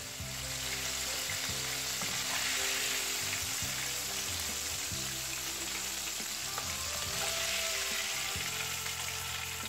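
Steady crackling sizzle of spicy popcorn chicken frying in hot oil, continuous and close, with small pops and occasional clinks of utensils.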